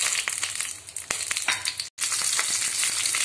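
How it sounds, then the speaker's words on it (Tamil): Raisins and cashews frying in hot ghee for pineapple payasam, a loud close crackling sizzle with crunchy stirring, briefly cut off for an instant midway. "நெய் காஞ்சிருச்சு நான் திராட்சை முந்திரி ஆட்"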